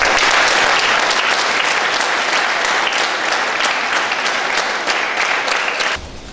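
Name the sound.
audience applause at kindergarten graduation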